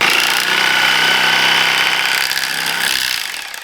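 A 3D-printed paint shaker rattles and hammers hard as it shakes cream into butter, a loud, close, fast mechanical juddering that runs steadily and then tails off near the end.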